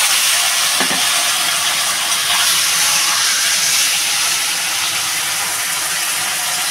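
A curry mixture poured into a hot pan sets off a loud, continuous sizzle and hiss that stays steady and close throughout, with no talk.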